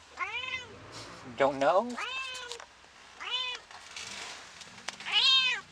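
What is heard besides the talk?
kitten meowing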